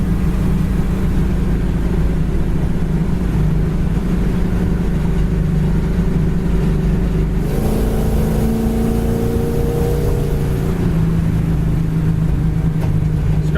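A 1968 Chevrolet Camaro engine runs steadily at a low, even rumble, with a brief rise in pitch partway through as it drives down the road.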